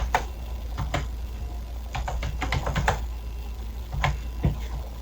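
Fingers tap on a computer keyboard in short irregular bursts of clicks over a steady low hum, close and clear with no talking.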